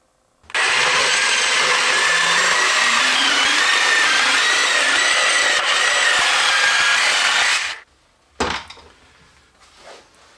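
A power saw cuts half-inch-thick pallet wood profiles in one loud, sustained cut of about seven seconds, then stops abruptly, followed by a sharp clatter and a few quieter knocks of wood being handled.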